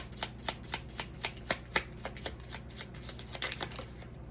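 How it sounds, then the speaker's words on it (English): Tarot cards being shuffled for a Leo reading, a steady run of soft riffling flicks and snaps repeating every fraction of a second, close and fairly quiet with no voice over them. "Give me some cards in alignment with this spread for Leo."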